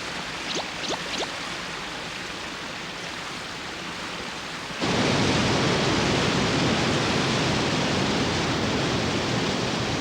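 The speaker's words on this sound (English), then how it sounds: "This is exactly the waterfall I saw in my dream" Cartoon waterfall: after quieter ambience with a few brief tonal chirps, a loud, steady rush of falling water cuts in abruptly and roars on without a break.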